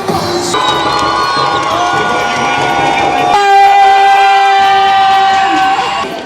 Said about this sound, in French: Là on va dans les tribunes parce que c'est là où il y a le plus de bruit